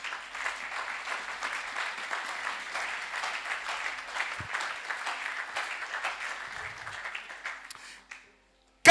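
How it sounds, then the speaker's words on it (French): Church congregation applauding together, a dense, steady round of clapping that runs for about eight seconds before breaking off abruptly, with no speech over it. "Acclamons la parole de Dieu."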